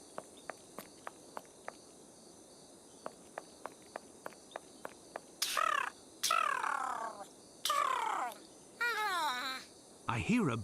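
A bird in the Sherlock Holmes Nemesis game gives several loud, harsh calls in bursts after a run of evenly spaced footsteps, with a faint insect hum in the background and voices speaking nearby.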